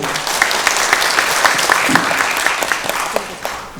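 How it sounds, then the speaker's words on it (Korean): Audience members at a national assembly suicide-prevention forum seminar clap to welcome a panel discussant, a dense, even round of applause lasting a few seconds before tapering off. "박수를 맞이해 주시죠"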